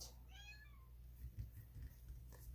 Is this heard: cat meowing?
yes